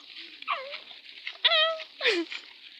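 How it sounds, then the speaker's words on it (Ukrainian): A dog on a small family homestead gives several short whimpering, whining yelps at close range, with high rising and falling cries in separate bursts and no talk over them. "Що там собака є?"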